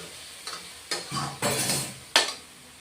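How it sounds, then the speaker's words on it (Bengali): Potatoes and spices are stirred and fried together in a pan, giving a soft sizzle under several distinct scraping strokes of a spoon, close and moderately loud, with no talking. "আলুর সাথে মশলাগুলি কষিয়ে নিচ্ছি"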